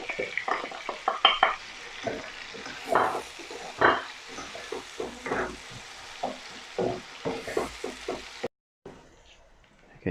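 Spices being stirred into lightly browned onions for aloo bhujia with scotch bonnet make a run of rhythmic scraping strokes over a soft sizzle, ending in a brief quiet gap.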